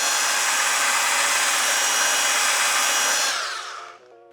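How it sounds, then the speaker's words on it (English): Belt sander running steadily across a wooden stair tread from a step tread and riser kit, a loud continuous abrasive whir that holds for several seconds, then winds down and cuts off near the end. "So let's go take it to the belt sander."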